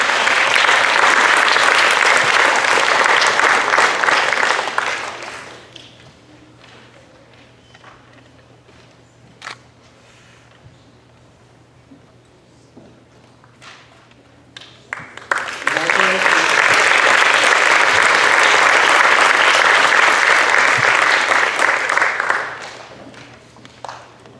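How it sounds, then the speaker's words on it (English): Audience applause at a lower school certificate ceremony, two loud sustained bursts of many hands clapping with a quieter stretch between them holding scattered taps and room noise. "One more round of applause for all of our lower schools."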